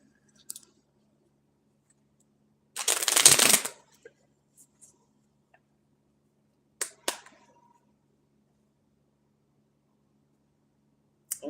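Tarot cards are shuffled in one crisp riffle, close by, followed by scattered soft taps and clicks of cards amid quiet pauses.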